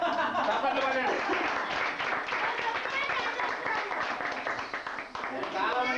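Audience applause at a New Year's Eve get-together in Tarnaka, a dense, steady wash of many hands clapping that fills the room for the whole stretch, with a brief dip near the end.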